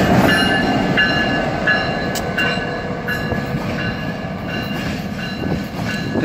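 Union Pacific GP30 diesel locomotives rolling past close by at a Roseville rail yard, a loud steady rumble of wheels and rail with clicks and faint squeals throughout, no voices.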